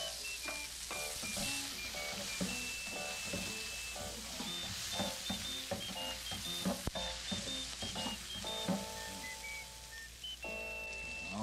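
Tomatoes fry in a pan, giving a continuous close sizzle and crackle with occasional stirring clatter, steady throughout and without speech.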